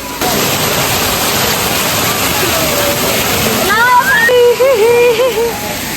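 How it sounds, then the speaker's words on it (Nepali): Water gushes and splashes from the stone spouts at Muktinath in Upper Mustang, a loud, steady rushing wash, with voices and a few tonal calls joining in the later part. "पानी छर्किँदै हुनुहुन्छ फुपूले"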